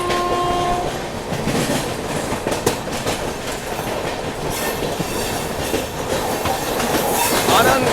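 Mahamana Express, train 22418 from Varanasi, running on rails during a parallel overtaking: loud rumbling wheels and clickety-clack, with a brief horn-like tone early on and occasional sharp rail clanks and squeals, heard up close.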